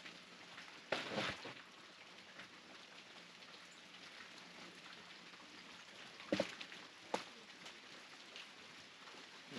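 Steady heavy downpour hissing across the whole stretch at a cabin during a tornado-warning storm, with a few brief louder splashes or gusts rising out of the constant rush.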